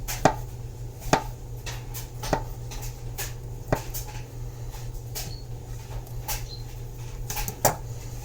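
A knife slices olives on a cutting board in a run of crisp, evenly spaced taps, close and clear over a low steady background hum, with no talking.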